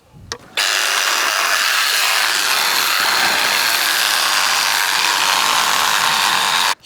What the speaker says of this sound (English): cut it out with my jigsaw.